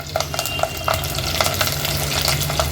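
Spring onion and green chillies fry in a pan over a medium flame with a steady sizzle, while regular clinks from stirring tap through the hiss.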